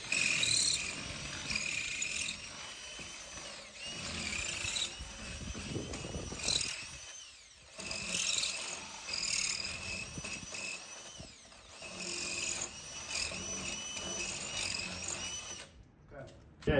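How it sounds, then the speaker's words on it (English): A masonry drill bit bores through brick outdoors to widen a hole for a doorbell camera wire. It gives a faint, gritty grinding whine that comes and goes in bursts, with quiet background noise between. "I just finished boring this out with the masonry bit"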